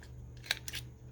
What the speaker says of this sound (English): One more snip here.